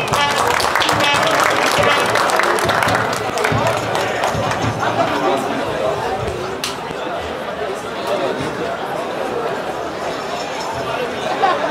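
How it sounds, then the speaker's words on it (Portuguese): Applause mixed with crowd chatter at a football club ceremony in a stadium, a loose wash of clapping and voices that stays fairly steady throughout. "Salva de palmas, por favor"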